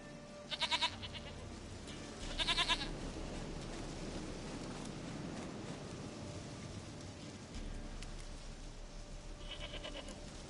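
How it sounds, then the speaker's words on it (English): A goat in a video game gives several short, faint bleats, two near the start and one near the end, over a steady hiss like rain. "Goat of mine, dearest, sweetest goat."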